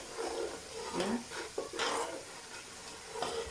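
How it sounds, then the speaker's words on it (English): Nigerian stew stirred in a pot: soft, repeated scraping and sloshing strokes of a spoon, with a light sizzle, close but fairly quiet and steady throughout. "I'm going to be stirring it as well."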